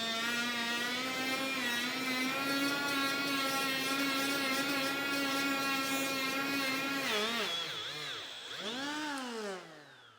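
A Hercules right angle die grinder whines at a high, steady pitch close by, then bogs under heavy load, its pitch sagging and swooping unevenly near the end before it partly recovers.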